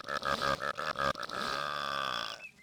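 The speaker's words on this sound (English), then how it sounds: "Now burp on it." A long, loud, croaking burp from a video game, opening in a rapid stuttering series of pulses and then stretching into one sustained belch before stopping abruptly.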